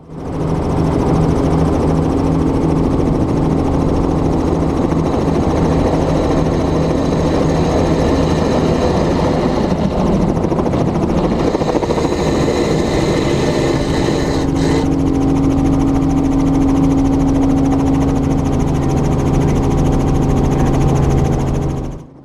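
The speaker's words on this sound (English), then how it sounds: "So you just kind of drag the helo forward until it hits effective translational lift and lifts off." A helicopter during takeoff training roars loudly and steadily from close by, its engine and rotor drone continuous throughout with a slight shift in tone midway, no speech.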